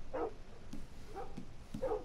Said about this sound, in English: How come everywhere I go there's a dog?